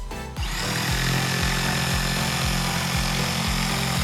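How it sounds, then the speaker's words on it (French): A jigsaw cuts through a wooden batten, starting abruptly and then droning loud and steady with a fast rhythmic reciprocating pulse throughout, close up and with no voices. "Ensuite, j'ai scié sur mes repères grâce à ma scie sauteuse."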